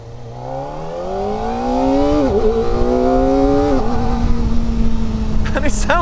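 A 2024 Kawasaki Ninja ZX-4RR motorcycle engine revving to high RPM, a loud rising whine climbing through the gears with brief dips at each shift, heard close over wind noise.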